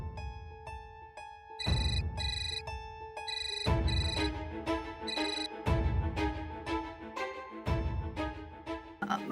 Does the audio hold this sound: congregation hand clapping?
no